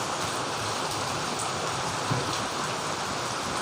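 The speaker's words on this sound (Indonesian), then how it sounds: "pada pagi yang gerimis ini ya" Light morning drizzle falls steadily, a soft continuous hiss of rain on surfaces that stays even and fairly loud throughout with no voices.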